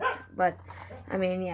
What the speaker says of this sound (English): if you hear that barking, that's my dog